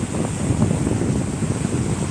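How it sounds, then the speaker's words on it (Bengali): Sea waves wash steadily at Shankarpur beach, a dense rushing surf blended with gusty wind noise on the microphone, no voices. "আজকে ঢেউটা দেখো"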